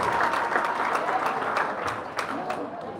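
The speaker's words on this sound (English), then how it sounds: "Let's give them a round of applause" A crowd at a live Gambian broadcast event, apparently a fashion showcase, claps for the featured people in a moderately loud, continuous round that gradually eases, with scattered sharper claps standing out.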